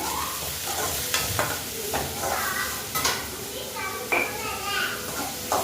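Garlic and onion with salt sizzle in a pan for a home breakfast of kali, with a spoon scraping and stirring at intervals while someone talks over it and children's voices are heard in the background.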